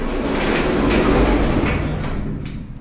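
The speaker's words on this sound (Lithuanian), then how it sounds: "Su metaliniam durim tokiam, kaip traukiniai." A metal sliding shower door, the kind found on trains, rumbles as it rolls along its track, a loud, close, continuous grinding slide that eases off toward the end.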